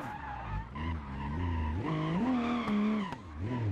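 Car tires skid and squeal continuously while drifting on a karting track in the driving game BeamNG, with a wavering pitch that rises and dips and an engine note underneath, fairly close and steady.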